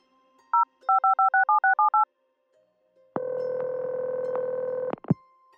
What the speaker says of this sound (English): she picked up the phone and rang the kitchen